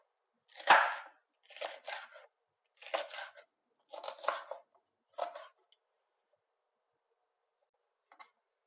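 Green village peppers and a red capia pepper being cut into large quarters with a knife: five separate crisp slicing chops in steady rhythm, close and fairly loud, then near silence with one faint tap at the end.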